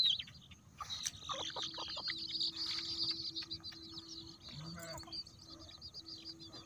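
Chickens clucking and calling around a Konkan rural homestead amid faint chirping birds, a steady hum and scattered clicks, moderately distant and never very loud.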